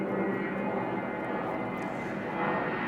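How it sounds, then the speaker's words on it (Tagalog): A fixed-wing airplane passes overhead above a house in BF Parañaque, a loud steady broadband engine roar that fills the whole stretch without fading. "sorry po dun sa ingay na eroplano"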